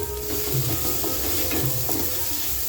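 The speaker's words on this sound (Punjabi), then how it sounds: "ਤੜਕਾ ਲਾ ਬਸ ਇਹਨੂੰ ਕਿਉਂਕਿ ਘੱਟ ਤੇਲ ਪਾਇਆ" Vegetables frying in a little olive oil for a dry sabzi tadka, a close steady sizzle with a few soft stirring scrapes of the spoon.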